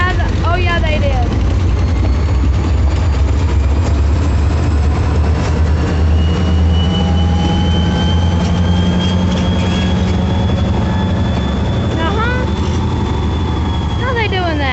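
Kiamichi Railroad locomotive engine rumbling steadily through a switching move, a deep continuous diesel drone with rising whines and squealing wheel or brake tones layered above, near and loud throughout, with brief voices.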